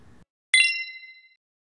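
A single bright notification bell ding strikes cleanly after a brief low murmur, then rings out and fades within about a second.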